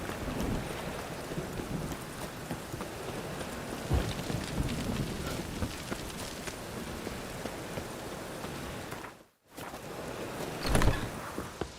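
Steady rain pours across a game world in The Witcher 3: Wild Hunt, a dense hiss filling the whole stretch, with a brief drop to near silence before a low rumble of thunder swells near the end.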